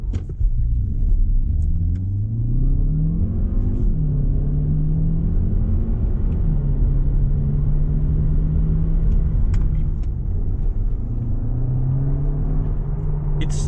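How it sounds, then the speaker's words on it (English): A Skoda Superb 1.4 iV plug-in hybrid with a DSG gearbox accelerating, its engine rising in pitch, dropping at shifts and climbing again, a loud, steady in-cabin rumble throughout. "In sport mode it will also hold its gears, and as you probably could tell, this is a regular DSG gearbox."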